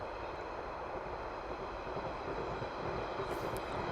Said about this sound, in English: The train literally just went, but you can see the train right here.